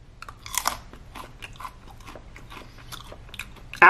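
Several crisp, crunchy bites and chewing of freeze-dried apple up close, brittle crackles in short bursts, ending with a sharp louder crunch.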